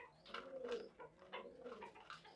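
Racing pigeons in a loft coo softly, giving repeated low, throaty, rolling calls in overlapping bursts, close but quiet, with no voices heard.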